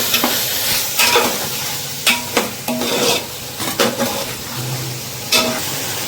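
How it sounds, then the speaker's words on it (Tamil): Marinated chicken sizzles steadily in a pan with masala while a utensil stirs it, making repeated scraping clatters close up over the continuous frying hiss. "மேரினேட் பண்ணி சிக்கன் போடலாம்."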